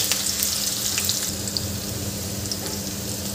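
Finely chopped onion fries in a pan over cumin and mustard seeds, a constant close sizzle with light spitting crackles and a few brighter pops, steady and unaccompanied by voices.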